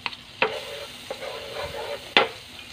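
Margarine sizzles in a hot pan, a soft steady fry under sharp clacks of a utensil against the pan, fairly quiet and close with no talking.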